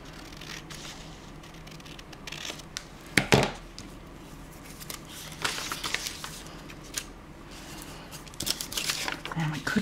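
A paper bookmark being trimmed at the bottom with scissors, giving close, faint snips and paper crinkling in scattered bursts while a voice talks quietly.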